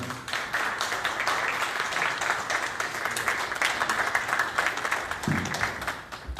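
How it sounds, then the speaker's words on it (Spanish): An audience at a lecture applauds, a full, lively patter of many hands sustained at moderate loudness, with a brief thump near the end. "por favor, un aplauso para..."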